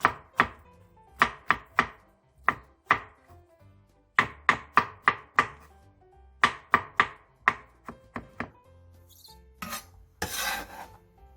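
Oyster mushrooms being cut into short pieces with a knife on a board, sharp close chops landing in quick clusters of two to four, followed by a few softer scraping sounds at the end.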